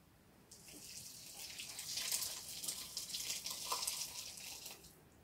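Hot water pours steadily into a vessel for dyeing raw fleece, a close, continuous splashing rush that swells and wavers for several seconds with no talk over it.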